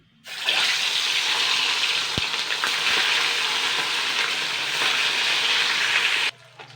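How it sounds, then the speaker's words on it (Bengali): Bata fish dropped into very hot oil sets off a loud, dense, continuous frying sizzle that starts abruptly, holds steady for about six seconds, then cuts off. "এবার আমি বাটা মাছগুলো দিয়ে দেবো"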